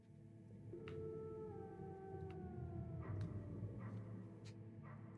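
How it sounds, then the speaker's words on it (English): Wolves howling in the video game Metal Gear Solid, long sliding tonal howls layered over a steady low ambient drone, fairly faint and distant with no speech. "Oh, I hear wolves."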